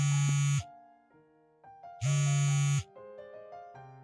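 An unanswered phone rings with two loud buzzing bursts, separated by quieter melodic electronic tones that keep repeating. No one picks up and no voices are heard.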